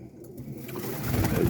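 An Andalusian racing pigeon coos, a brief, soft, low cooing that swells toward the end of the short moment, heard close and without talk.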